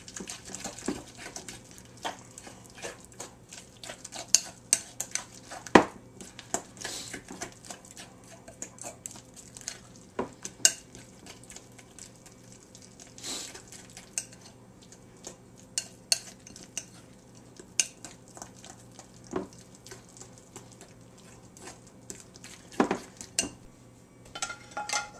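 A fork mixing food in a bowl, repeated close metallic clinks and scrapes of cutlery against the dish in an irregular rhythm, with occasional louder taps.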